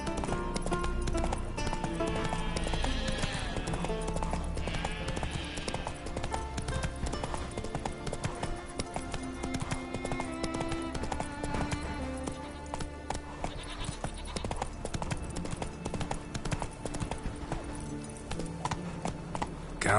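Roach the horse trotting in The Witcher 3, a regular clip-clop of hooves under game music and ambient sounds, with bleating sheep or goats nearby.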